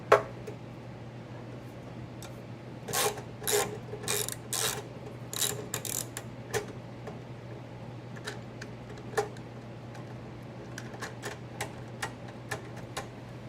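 A ratchet clicks as it backs out an 8 millimeter screw from the air cleaner base of a Briggs & Stratton 950 Series engine. Close, rapid bursts of clicking come first, then slower, spaced single ticks, with no talk.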